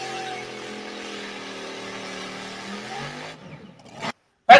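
A drag racing car powered by a big-block Chevrolet engine makes its second pass of the night, its loud engine drone holding steady and then fading away as it pulls off down the strip before the sound cuts out.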